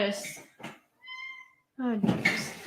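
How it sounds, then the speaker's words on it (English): A cat locked outside meows several times in short, plaintive calls, some drawn out and tonal, with brief quiet gaps between them, close and clear. "the cat got locked outside."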